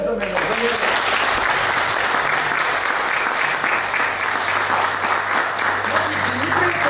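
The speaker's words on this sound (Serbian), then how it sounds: "Molim vas, za tog čovjeka jedan aplauz" A school anniversary gathering's audience breaks into sustained, dense applause for Dr. Dimitrije Crnobarac, steady and loud throughout with a voice heard faintly at the start.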